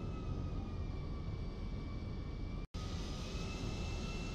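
A jet airliner's engines idle in GTA V, a steady low rumble with a faint whine on top, continuous and unchanging except for one brief dropout.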